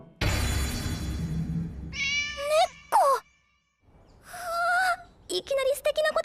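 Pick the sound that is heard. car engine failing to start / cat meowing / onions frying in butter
cat meowing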